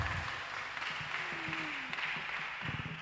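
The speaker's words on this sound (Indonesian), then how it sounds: "kita berikan aplaus untuk Dewan Marturia" A seminar audience at a church workshop claps together for a few seconds, a dense, fairly soft patter of many hands heard in a room, with a brief voice passing under it.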